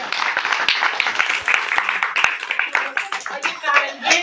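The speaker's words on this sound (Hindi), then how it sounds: "ताली बजा दो भैया।" A crowd clapping at an Indian wedding ceremony: many hands applauding in a dense, steady patter with voices talking underneath.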